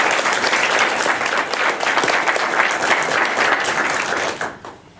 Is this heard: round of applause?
yes